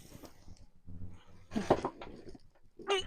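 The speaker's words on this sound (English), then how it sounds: "This is my dog, Bailey" A pet dog close by gives short whimpering, bark-like vocal bursts in quick succession indoors, with brief pauses between them.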